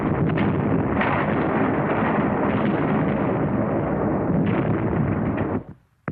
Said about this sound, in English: the artillery's supporting power disrupted numerous enemy counterattacks